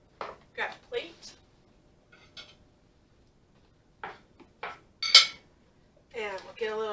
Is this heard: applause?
no